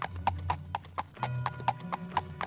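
Horse hooves clip-clopping in an Elder Scrolls video game, a quick steady trot of sharp hoofbeats, close and clear over a low rumbling background.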